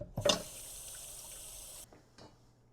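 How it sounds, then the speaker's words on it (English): Tap water runs steadily into a sink as a cutting board and knife are rinsed, with a couple of light knocks at the start and the flow cutting off before a final faint clunk. "So I'm going to wash off this cutting board and knife."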